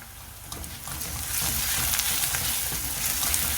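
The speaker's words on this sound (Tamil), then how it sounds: "இப்போ நம்ம இஞ்சி பூண்டு பேஸ்ட், ஒரு மிளகாய் ஆட் பண்ணிக்கலாம்." Ginger garlic paste and a chilli dropped into sautéed onions flare into a sizzle that grows louder after the first second and then holds steady and close, with faint stirring and no speech.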